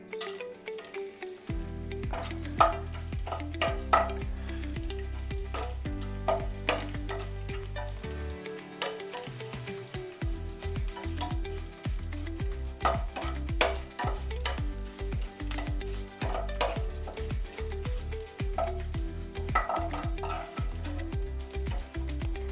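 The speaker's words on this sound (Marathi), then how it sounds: "आपण हा डिंकळ घेतला आहे तो आता तळून घेऊया" Edible gum frying in hot ghee in a wok, with a continuous sizzle broken by clinking stirs and scrapes of a utensil against the pan, close up, with faint music underneath and no talk.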